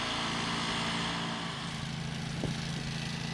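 Small engines of a core harvester and an aerifier drone steadily on a golf chipping green during fall aerification, a continuous mid-pitched hum at close to moderate distance with no pauses.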